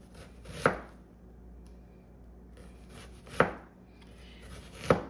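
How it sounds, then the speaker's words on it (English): A kitchen knife strikes a cutting board three times while chopping an onion, each sharp knock spaced apart with quiet between, close and clear with no talking. "because I don't want to waste any onion, I'm going to flip it over, and I'm just going to give it a chop"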